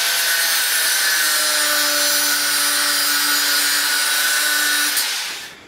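A steel piece for a spice rack having its excess cut off with a power tool, giving a loud, steady, close whining cut with ringing tones that stops abruptly near the end.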